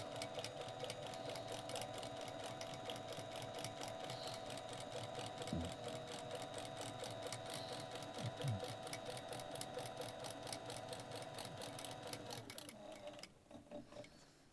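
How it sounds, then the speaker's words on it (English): A sewing machine stitches leather cowboy boot pull tabs in a steady, fast mechanical rhythm running continuously close by, stopping near the end. "So that's why I'm stitching it down with more than one row."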